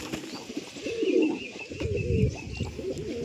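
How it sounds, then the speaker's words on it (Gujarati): An old male domestic pigeon coos in low, throaty, rolling phrases close by, with two swelling bursts over a quiet background and no one speaking. "સૌથી જૂનામાં જૂનું કબૂતર છે આપણું પલ નર"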